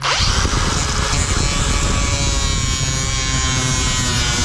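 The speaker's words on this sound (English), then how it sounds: "Let's drill this." A drill bores into a carbon fiber front fender on a C6 Corvette widebody: a loud, close, steady high-pitched whine that holds without pause from start to finish.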